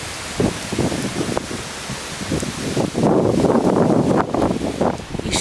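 Strong south wind buffets the microphone in rumbling gusts on the seafront at Póvoa de Varzim, Portugal, in rain, rising to a loud, sustained roar in the second half, with rustling noise and no voices.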